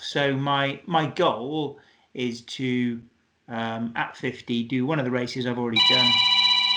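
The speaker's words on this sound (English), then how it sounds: "sorry, that's just my phone going in the background." A phone rings in the background near the end while someone speaks steadily in an indoor recording; the ringing tone is sustained and clear as his talk continues.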